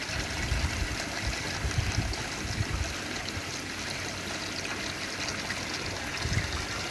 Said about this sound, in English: You can see the water starting to drop in the clay balls.